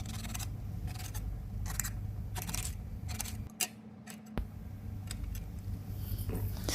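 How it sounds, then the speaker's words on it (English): Knife cutting brinjal (eggplant) into four pieces for curry, with a series of close, regular chopping strokes over a steady background hum. "So I'm gonna cut the brinjal."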